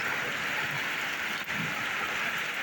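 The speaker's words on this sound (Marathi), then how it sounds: "हे बघा, खूप पाऊस पडतोय" Dense, steady hiss of heavy rain falling, constant and close throughout with no pauses.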